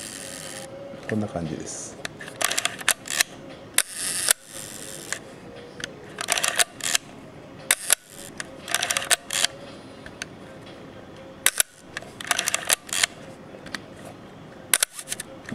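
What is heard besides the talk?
Leica M3 camera self-timer running and shutter release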